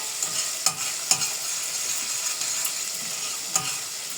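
Onion fries in a pot with a steady, bright sizzle, and a spoon stirs it every so often, adding soft scraping knocks. No voices are heard.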